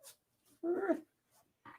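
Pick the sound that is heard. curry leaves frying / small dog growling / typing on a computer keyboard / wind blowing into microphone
small dog growling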